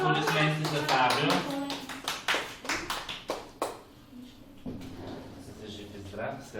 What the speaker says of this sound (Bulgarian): Аплодисменти за Фабио.